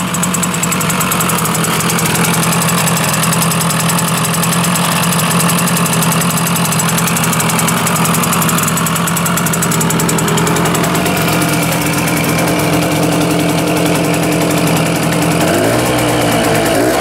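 A Zundapp KS 50 watercooled moped engine runs steadily, a loud, close, buzzing two-stroke drone with rapid even firing and rattling vibration, shifting slightly in pitch near the end, with no talking.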